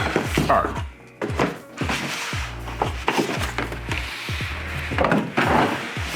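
The cardboard sides of a PS VR2 box are torn open by hand, a series of close, loud tearing rips and dull thumps in quick irregular bursts, without talk.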